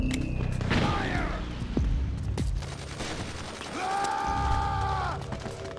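Gunfire in Metal Gear Solid 4 combat: bursts of rifle shots and mechanical clatter under shouted voices, with a few sharp isolated cracks and tonal sirens or whines, loud and close throughout.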